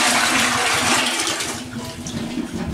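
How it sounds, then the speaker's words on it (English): Cold water pours from a tank at an off-grid cabin, a loud close rushing splash that eases slightly toward the end. "grab a little bit of this cold water from our tank here"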